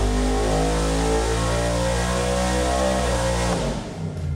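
Race engine revving hard through a dyno pull from 5,000 to 7,500 rpm, a loud, close, sustained mechanical roar with steady harmonic tone that climbs slightly before easing off near the end.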